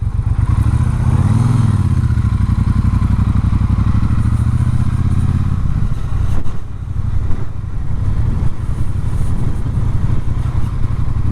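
A Triumph Speedmaster motorcycle rides along, its engine a loud, steady low throb that rises briefly then settles, with wind rush and road clatter close to the rider.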